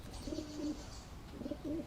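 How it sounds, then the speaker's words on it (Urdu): A pigeon coos nearby in two short soft phrases of low rolling notes separated by a pause, against a quiet background. "ابا کبوتر ہے."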